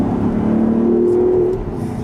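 An Audi R8 supercar engine revs with its exhaust valves open, a loud, steady rising drone with a climbing tone that holds for about a second and a half before easing off, close and without talk.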